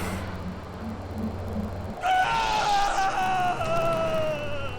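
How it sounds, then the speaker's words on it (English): A drawn-out dying scream from Jaden Kor in the Jedi Academy video game, bursting in halfway through over a low rumble and holding a loud, wavering cry to the end. "Jaden Kor's voice actor, good at dying screams"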